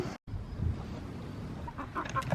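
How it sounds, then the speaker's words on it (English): A small bantam hen clucks softly nearby in a backyard, a few low murmuring clucks over faint background noise, with a brief dropout near the start. "She is a bantam, so she's a smaller hen."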